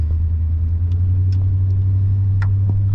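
A new pickup truck on street tires, with its wheels spinning as it is shifted into four-wheel drive, gives a steady loud low engine rumble that stays even throughout, with faint clicks above it.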